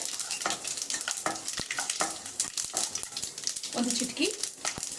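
Mustard seeds pop and splutter in hot oil, part of a tempering for a traditional Iyengar-style raw banana curry; a dense crackle of sharp pops runs continuously and close, with a brief voice partway through.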